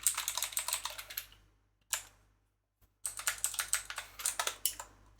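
Rapid, close typing on a computer keyboard, a dense run of crisp key clicks that stops for about a second, gives a lone tap, then resumes in another fast burst over a faint low hum.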